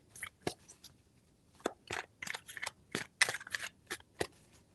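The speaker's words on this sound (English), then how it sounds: "3 shuffles." A deck of tarot cards is shuffled in a series of short, sharp riffling bursts, close and crisp, with brief pauses between them and no talk.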